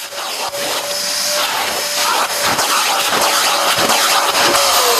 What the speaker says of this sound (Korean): 집에서는 진공 청소기를 이용해 매트 청소를 하는 것이 가장 효과적이라고 하네요